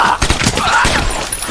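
Dense gunfire from a zombie film erupts in a rapid, loud burst of overlapping shots and cracks, one or two barely separated volleys crowding the moment.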